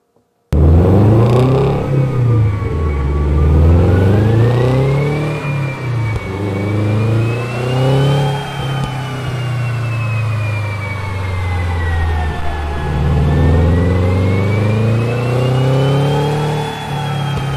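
A 2022 Subaru WRX with aftermarket equal- or unequal-length headers revs loudly and continuously, its engine note rising and falling in long smooth sweeps over a steady low rumble, with no talking.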